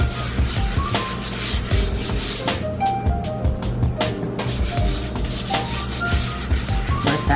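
Hands rub flour into a fresh sheet of homemade tagliatelle dough in steady back-and-forth strokes, a soft close scuffing that repeats evenly with brief pauses.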